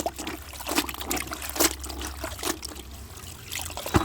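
A cotton saree being dipped into water in a tub, giving soft intermittent trickling and dripping splashes close by, fairly quiet, with no voices.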